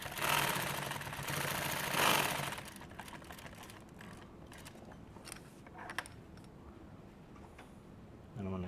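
A sewing machine stitches nylon tactical gear, a strap piece like those on an Alice pack, giving a close, steady mechanical rattle with sharp clicks after a louder, busier opening passage.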